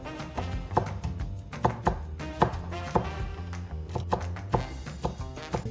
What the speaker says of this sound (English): We're going to chop some fresh parsley.